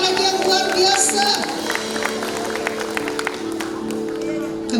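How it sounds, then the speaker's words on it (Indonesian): Congregation applause at a senior community church service, a broad wash of clapping and crowd noise that swells at the start then settles, with voices and organ-like tones running beneath. "Tepuk tangan lagi yang luar biasa."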